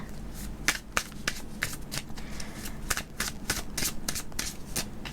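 Tarot cards are shuffled by hand close up, a quick irregular run of crisp riffling snaps and soft card slaps that continues steadily throughout.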